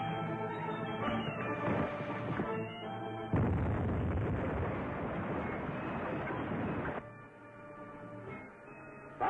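A torpedo fires from a submarine in a 1945 film serial, heard as a loud, rumbling whoosh and burst of noise for several seconds. Lower tonal sounds and music run before and after it.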